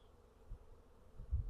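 A close, low hum of a honey bee swarm buzzing together, swelling louder toward the end.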